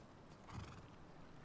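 A horse in a video game gives a short, faint whinny, heard alone with a few soft hoof clops.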